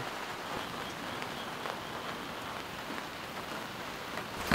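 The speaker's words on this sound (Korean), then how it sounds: "비가 오는데?" Steady, fairly faint rain patters outdoors over a table and canopy set up for barbecuing, an even hiss of drops with a few louder individual hits and no voices.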